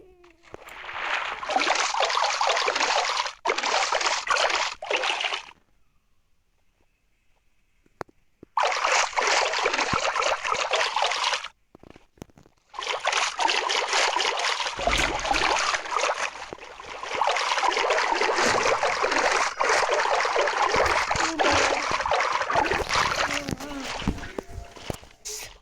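Steady broadband rush of flowing water in Minecraft, loud and continuous in several long stretches broken by short silent gaps, with a quiet voice talking at times.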